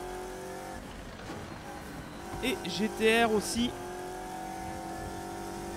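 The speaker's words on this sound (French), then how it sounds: "Vous entendez crisser les pneus" Race car engines hum steadily in the Assetto Corsa racing game, then tires squeal sharply in a short burst midway, while a voice talks over the driving.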